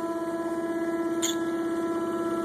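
A prototype 10-coil monopole generator gives off a steady, loud electrical hum with strong tonal overtones and a slight pulsing throb, continuous throughout.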